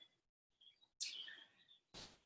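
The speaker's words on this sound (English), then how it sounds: "Oh, those birds are going crazy there." Birds chirp outdoors in short, high bursts, faint at first, then a louder, clearer call near the middle and a final sharp chirp, with quiet gaps between.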